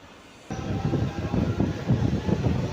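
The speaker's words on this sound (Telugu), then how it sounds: "మన ట్రైన్ అనేది మంచిర్యాల చూద్దా బయలుదేరుతుంది." A MEMU electric passenger train pulls out of a platform, its low rumbling and rhythmic wheel clatter starting abruptly and building over faint steady background noise, close and continuous with no talking.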